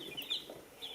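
Newborn chicks only a few days old peep in thin, high chirps, with a soft cluck or two mixed in, faint and close throughout a brief moment with no talking.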